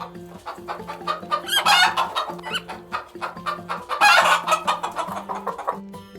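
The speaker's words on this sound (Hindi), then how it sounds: "मुर्गी और इसे इंग्लिश में चिकन या hen कहते हैं।" Chickens cluck loudly and repeatedly in busy, overlapping bursts, with a steady musical tone running underneath.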